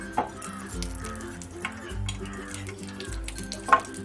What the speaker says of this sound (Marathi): त्याच्यामध्ये टाकणार आहे दोन चमचे साजूक तूप